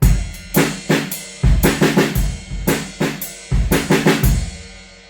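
A snare drum plays a repeating rhythmic figure of quick triplet groupings and accents, crisp and close, fading out at the end.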